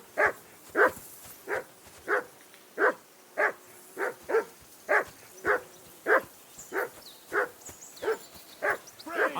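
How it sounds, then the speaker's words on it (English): A dog barks in the video game Kingdom Come Deliverance 2, about fifteen evenly spaced barks in a steady rhythm, moderately loud and alone. "I assume you can hear that damn dog of yours barking."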